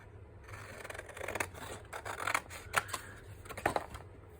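Scissors snip through paper while a notepad is trimmed, giving a run of short crisp cuts and rustling paper handling at close range, with no talking.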